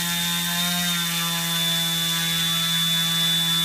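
A propeller and motor on a test stand spinning at about 5,000 RPM, a loud steady electric whine with strong constant tones and a faint rising pitch, running evenly without speech.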